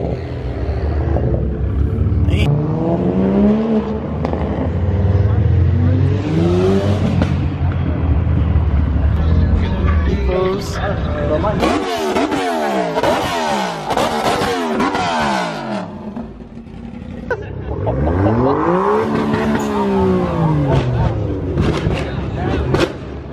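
Corvette engine of around 400 horsepower revving hard at a car meet, loud sustained roaring with rising and falling pitch sweeps, close by, with people talking over it.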